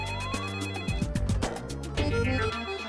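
A telephone rings with a fast, repeated electronic chime in quick pulses, fairly close, over a soft musical background in a Hindi TV comedy scene.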